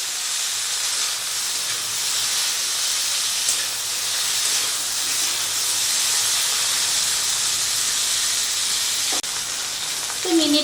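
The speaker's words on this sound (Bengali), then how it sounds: "তো নুন হলুদ দিয়ে ভেন্ডিটাকে হালকা করে ভেজে নেব" Okra with salt and turmeric fries in a pan, giving a steady, even hiss of sizzling oil close by for the whole stretch. A faint clink sounds near the end, and nobody talks.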